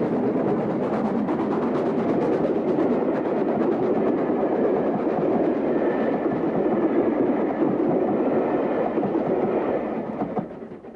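British Railways 62660, an LNER steam locomotive, hauls a train past with a loud, continuous rumble and rhythmic clatter of wheels over rail joints, fading slightly at the end.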